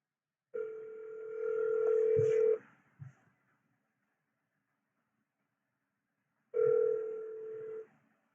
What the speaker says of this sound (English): I'm gonna give another dial back in a second. Call him back right now.